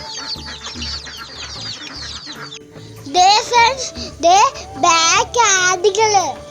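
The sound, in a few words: chickens clucking on a farm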